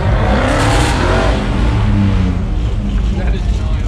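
A Jeep engine roars and revs loudly and continuously at a car meet, with rough low rumble throughout, while a voice talks over it.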